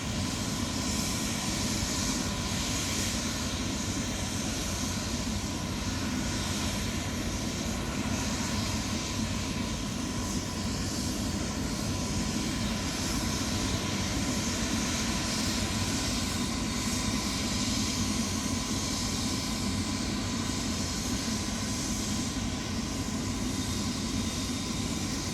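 Tour helicopter engines run at a Grand Canyon boarding area, a steady, dense roar that holds constant throughout, heard from inside a vehicle with the windows up.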